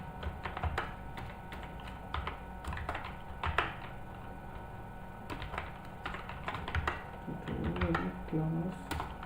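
Typing on a computer keyboard, soft quick key taps in irregular bursts under a speaking voice, fairly quiet throughout.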